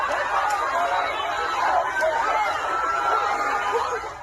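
Noisy crowd gathered around a Jacksonville, Florida police officer responding to a gunshot report, a steady close hubbub of many overlapping voices, shouts and scuffling movement.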